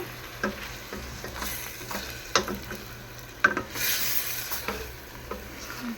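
Knorr cubes and apple sauté in a pan, with quiet frying sizzle beneath repeated close scraping and tapping of a utensil stirring, some strokes louder than others.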